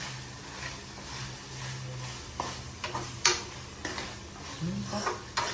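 Onions stirred in a pan in a small bachelor's room kitchen while making butter chicken, a faint sizzle under intermittent scraping and clinking of a utensil against the pan, with a few sharper taps.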